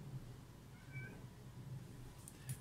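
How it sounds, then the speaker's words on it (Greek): A male house cat meows indoors, a few soft, faint calls spread across the moment against a low room hum, with no speech. "Είναι ο γάτος μου."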